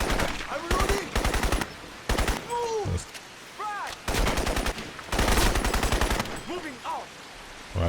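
Bursts of automatic gunfire in a Crysis firefight, loud rapid volleys starting and stopping in repeated clusters with short gaps, some voices heard between the bursts.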